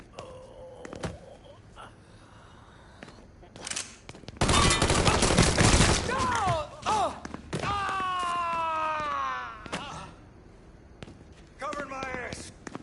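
Gunfire in the video game Mafia 3, with a long loud burst of automatic fire, scattered single shots and thuds, and someone shouting between volleys.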